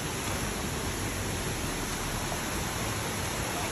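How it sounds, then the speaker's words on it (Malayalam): A small waterfall in the Thangal Para hills at Vagamon, a steady, dense rush of falling water that stays loud and unbroken throughout, with no voices over it. "ഇപ്പോൾ വെള്ളച്ചാട്ടം, ചെറിയൊരു വെള്ളച്ചാട്ടം ഉണ്ട്"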